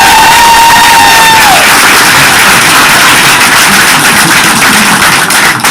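Loud, sustained crowd applause and cheering fill a school board meeting room after a motion passes, a dense wash of clapping and voices with no break.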